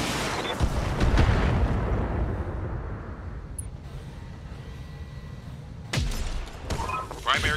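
Mech weapons fire in the BattleTech video game: heavy booming volleys at the start with a long rumbling decay, then a fresh burst of blasts near the end, loud and close.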